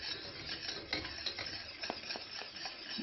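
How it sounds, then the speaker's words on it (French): Syrup being stirred in a pan to dissolve gelatine while making a chocolate-raspberry bavarois, a steady close scraping and swishing with soft clinks of a utensil against the pot, continuous for the whole stretch with no talk. "Il faut bien mélanger afin que toute la gélatine fonde en totalité"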